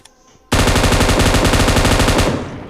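Rapid automatic gunfire in the PUBG battle-royale game starts abruptly after a brief quiet moment, a loud continuous burst of closely spaced shots lasting about two seconds before trailing off.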